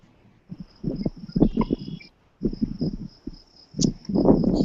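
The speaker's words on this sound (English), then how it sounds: "Sounds like the crickets are great on that." A steady high cricket chirp runs through, briefly pausing, over low rustling and muffled background voices.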